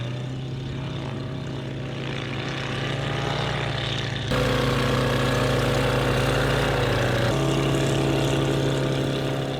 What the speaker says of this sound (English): Now we're gonna get Kevin through his couple test flights before he throws Kayla in with him